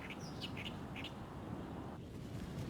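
Birds on a nesting island at a city lake give a few short, bright chirps near the start, then fade into a steady outdoor wind-like hiss.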